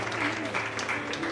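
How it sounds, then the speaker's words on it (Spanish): Applause from a church congregation during a service, a steady wash of clapping that runs throughout at moderate level, with some speech-like sound mixed in. "un aplauso para ella"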